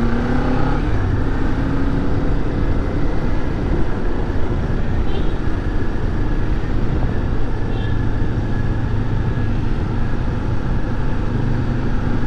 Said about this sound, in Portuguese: E essas motos da Kawasaki são demais.